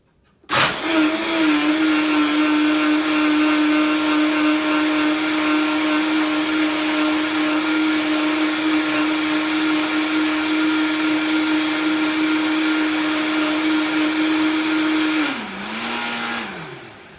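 A blender grinds sesame seeds, almonds and dates into plant milk, a loud, steady motor whine that starts abruptly, holds for about fifteen seconds, then dips in pitch and winds down.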